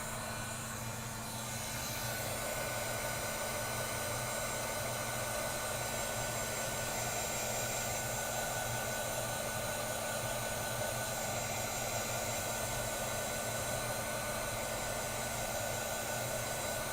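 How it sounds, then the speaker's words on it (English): A heat tool roars with a constant broadband whooshing blast as it heats colored shimmer on succulents for a terrarium, starting up after a moment and holding steady throughout. "let's hit these with a little bit of heat."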